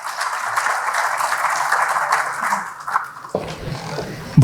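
An audience at a mushaira in Patiala claps to welcome a poet, a dense, steady patter of many hands that thins out briefly before a few louder claps and stage noise near the end.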